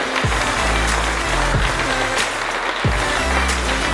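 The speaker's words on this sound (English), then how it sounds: "Let's just give a round of applause to everyone that sponsored the match" A crowd at an outdoor precision rifle match in Oklahoma gives a round of applause for the sponsors, a loud, continuous wash of clapping that lasts the whole stretch, with a few low rumbles underneath.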